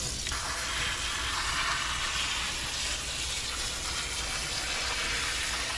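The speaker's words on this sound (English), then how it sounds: "gonna put some cold water over it." Cold water pours from a tap over cooked macaroni in a pot, a steady broad gushing hiss that holds continuously and evenly for several seconds at moderate level, with no talk.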